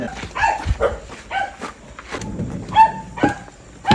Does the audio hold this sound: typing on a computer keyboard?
no